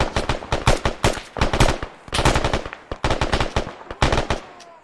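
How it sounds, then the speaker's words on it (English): Bursts of M4 rifle fire crack out in Arma 3 during a valley battle on the road to Kunduz, sharp repeated shots in quick rhythmic volleys, close and loud with no talking. "he shot me with an M4"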